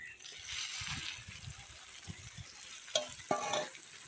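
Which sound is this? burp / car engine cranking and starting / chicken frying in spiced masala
chicken frying in spiced masala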